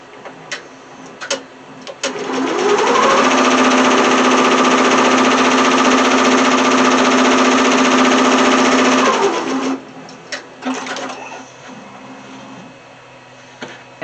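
A sewing machine runs a placement stitch on a hooded towel, a steady loud mechanical whirring hum lasting several seconds, bracketed by a few short clicks and taps before and after.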